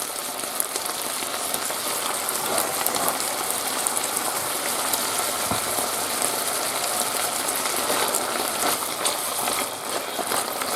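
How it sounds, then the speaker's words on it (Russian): Liver fries in a pan with a dense, even crackle and sizzle that keeps going steadily and close up throughout, with an occasional faint scrape from stirring. "Так, обжариваем печенку."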